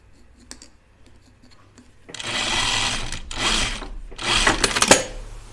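A sewing machine runs a seam on a pair of slacks, starting after a few soft clicks and then whirring in three close, steady bursts that end with a sharp tap.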